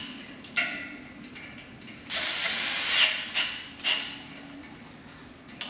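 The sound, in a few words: tightening a bolt on a metal frame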